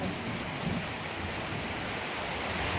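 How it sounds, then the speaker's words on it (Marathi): Heavy rain pours down in a dense, steady broadband roar, loud and continuous outdoors, with no voices over it. "एवढा पाऊस चालू आहे"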